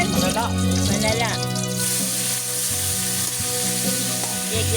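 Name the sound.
sautéing food in a pan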